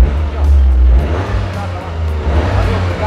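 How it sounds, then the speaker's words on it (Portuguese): A 2024 Toyota GR Corolla hatch, Core edition, with a 1.6 turbo engine, rumbles at idle with the door open, a loud, steady low growl close by. "E agora eu vou abrir a porta aqui para mostrar para vocês o ronco do carro."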